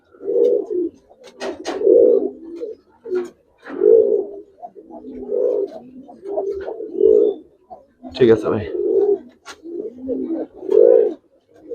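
Giribaz and racer pigeons at a pigeon sale coo loudly and close by in a steady series of deep, rolling bursts about a second apart. Someone speaks briefly over them.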